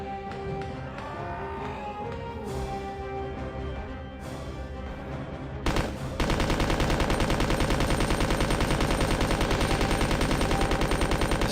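Belt-fed SMG firing in a video game, starting after a tonal musical stretch and then rattling as a dense continuous burst through the second half, loud and close.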